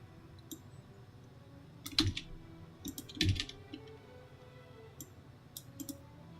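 Keys on a computer keyboard clack in short irregular bursts, a few sharper louder strokes among lighter taps, close by with no talking.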